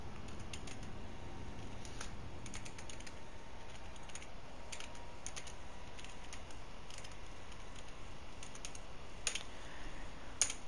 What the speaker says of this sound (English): old-fashioned typing